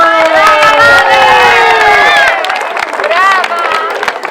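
At a children's end-of-year show held by a ranch sports club in Montegrazie, the crowd cheers loudly for a child receiving a diploma. Excited shouts and high children's voices ring out close by over light clapping.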